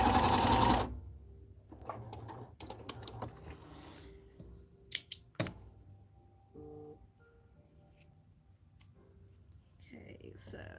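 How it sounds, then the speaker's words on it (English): A domestic sewing machine back stitches a seam on a homemade Belle princess costume at a shortened stitch length. It gives a short burst of rapid mechanical whirring, then quieter clicks and handling noises follow. "I put the stitch length down when I did my back stitch"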